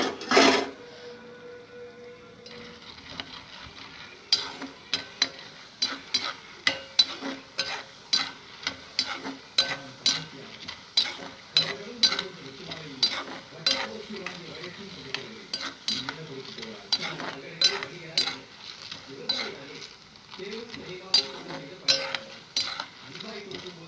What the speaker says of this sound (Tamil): பாருங்கள், கடலைப்பருப்பு போடுறோம்.